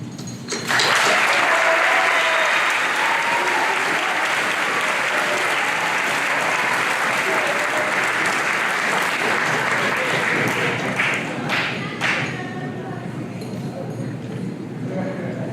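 A graduation ceremony audience breaks into sustained applause, loud and steady from start to finish, with many hands clapping together, cheers mixed in, and a few sharp claps standing out near the end as it begins to thin.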